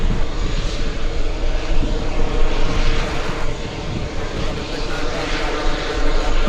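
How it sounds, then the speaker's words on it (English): An Airbus A350 taking off at JFK airport, a broad, loud, sustained engine roar that swells and fades slightly, heard from a distance across the field with no clear voices. "The A350 is going to take off."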